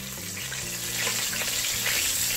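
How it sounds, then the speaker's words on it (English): Garlic masala fish pan-frying over a low flame, a steady close crackling sizzle of oil with soft bubbling underneath, continuous and fairly loud with no voices. "Keep the flame to the minimum and cook the fish for 5 minutes on each side."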